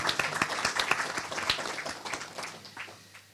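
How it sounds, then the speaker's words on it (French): Audience applause at an evening event on debt, the euro and politics, a fairly thin scattering of claps that gradually fades. "je crois qu'on mériterait tous de l'applaudir pour la remercier"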